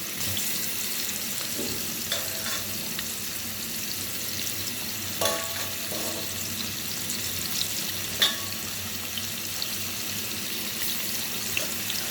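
Fish and vegetables sauté in a pan with a steady low sizzle, broken by a few light scrapes and clinks of stirring; no voices.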